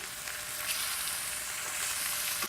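A steak sears in a hot pan with a loud, bright, continuous sizzle and crackle that stays close and steady, with no talking.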